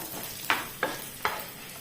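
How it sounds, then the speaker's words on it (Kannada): Cumin, fenugreek, coriander seeds and asafoetida fry in a pan for Konkani-style pathrode, a soft sizzle broken by three crisp spoon-scrapes of stirring, close and without any talk. "ಹಾಕಿ ಒಮ್ಮೆ ಫ್ರೈ ಮಾಡುವ ಇದನ್ನೆಲ್ಲ"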